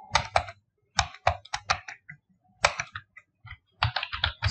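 Computer keyboard typing in quick bursts of clicking keystrokes with short pauses between groups, close and clear with no talking.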